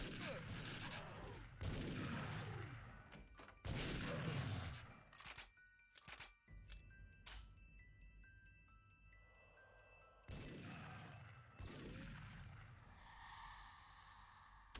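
Gunfire from an enemy shooting in the video game TimeSplitters Future Perfect, with bursts of shots and mechanical clatter that rise and fall over about fifteen seconds, mixed with quieter game ambience.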